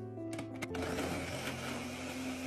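Blender whirring as it mixes eggnog and vanilla ice cream into a milkshake, a steady motor drone that starts up and runs continuously, fairly quiet and close.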